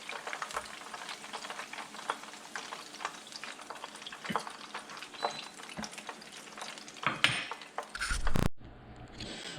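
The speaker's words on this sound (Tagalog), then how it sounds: "prito natin siya ulit para mas maging crispy siya" Pork leg for crispy pata deep-fries a second time in hot oil, giving a steady crackling sizzle with scattered pops and a few knocks and scrapes near the end.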